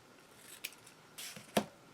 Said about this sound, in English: Going to cut it very small